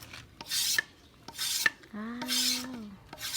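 Thin wood strips are whittled with a knife in short rasping strokes, roughly four bursts with clicks between them. A brief tonal squeak cuts in midway.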